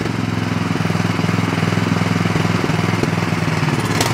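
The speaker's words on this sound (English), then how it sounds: "Choke's all the way off and it's idling, but it is hunting, which is a lean condition." A snowblower engine idles with the choke fully off, running lean and hunting, its steady mechanical chugging close and loud throughout, with no voices.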